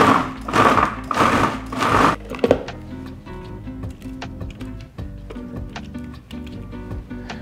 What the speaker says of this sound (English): We're gonna stick them in the Cuisinart whole. And we're just gonna puree it until it's nice and chunky.